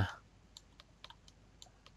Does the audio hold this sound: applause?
no